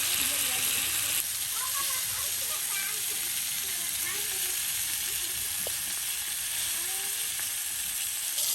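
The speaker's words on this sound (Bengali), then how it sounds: "সুন্দর করে মাছগুলো ভেজে নেওয়া হচ্ছে, মচমচে ভাজা" Small puti fish frying crisp in hot oil at an outdoor riverside cooking spot, a steady dense sizzle running throughout with faint talk underneath.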